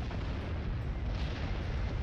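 A naval mine detonates in a video game: a low, rumbling blast that fills the short stretch at a steady, muffled level, with no speech.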